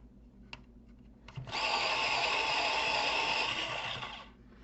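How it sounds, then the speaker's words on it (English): An electric pencil sharpener grinds a colouring pencil in one sustained, loud, buzzing whir lasting a few seconds after some faint clicks, then cuts off. "I have a sharpener"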